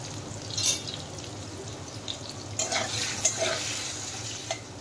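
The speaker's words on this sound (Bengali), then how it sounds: "আলুটা একটু ভাজা করে নেব।" Potatoes fry in oil with a pinch of salt and turmeric, making a steady close sizzle punctuated by a few quick spatula scrapes and stirring clatters against the pan, with no talking.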